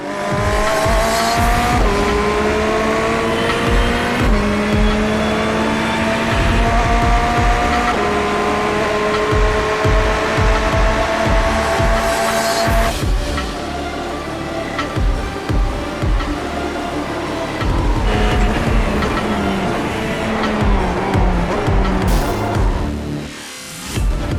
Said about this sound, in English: all I saw was a car come across and run into me